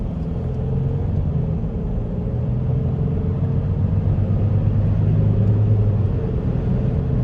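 A 2010 Mercedes GL350 drives on the road with a steady low engine and tyre rumble from inside the cabin, holding loud and even while accelerating, with no talking.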